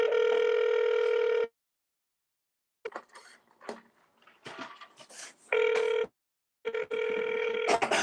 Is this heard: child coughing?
no